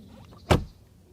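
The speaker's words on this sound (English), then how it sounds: "And now the door closing sound." A single solid thud as the door of an Audi A8 D2 W12 swings shut, close and fairly loud, with a short dull tail and quiet around it.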